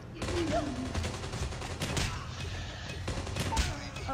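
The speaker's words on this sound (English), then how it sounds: "And here I am, shotgunning them, spawn killing them." Shotgun blasts in Call of Duty Mobile during a spawn-kill at the enemy headquarters, several sharp booming shots spaced irregularly over dense battle noise and other gunfire.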